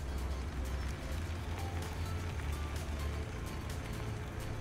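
A tractor engine in Farming Simulator 17, with a steady low droning rumble that holds constant and fairly quiet throughout and no clear speech over it.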